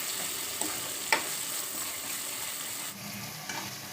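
Ginger garlic paste frying in oil over a low flame for mutton keema makes a steady, close sizzle, broken by a few sharp scrapes and clicks from stirring.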